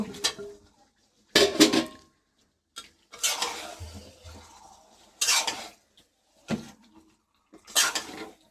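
Potatoes tipped into a pot of chicken being cooked down, giving a few separate bursts of clattering and scraping against the pot, loud and close, with quiet gaps between them.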